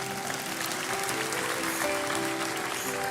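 A church congregation applauds together, dense steady clapping from a large crowd filling the space throughout.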